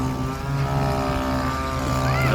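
A Jeep arrives outside in a neighborhood at night with a steady, fairly loud low engine rumble that holds throughout, and no talking.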